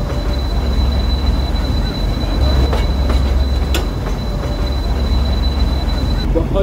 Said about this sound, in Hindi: दोपहर 12 बजे the UNESCO world heritage Matheran toy train departure हो गया